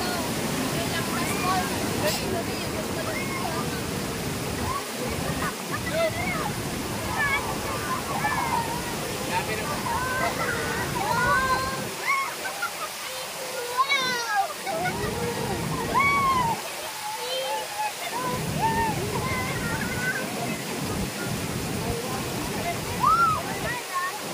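Continuous rush and slosh of sea waves, fairly loud and steady, with faint voices and bird-like whistles mixed in the background.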